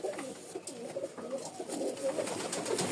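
Rajshahi Giribaz pigeons coo in soft, repeated low throaty calls that overlap one another at close range, with faint background noise and no speech.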